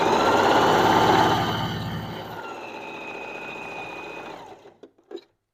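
A sewing machine hums loudly and close while back-stitching curtain fabric, running fast then slowing and winding down, followed by a few faint clicks.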